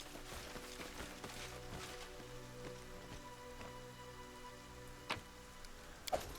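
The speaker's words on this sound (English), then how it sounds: "And it is raining, but at least it's only a light rain." Light rain falling in the woods in the video game Pathfinder: Kingmaker, a faint, even patter with a couple of sharper drips near the end.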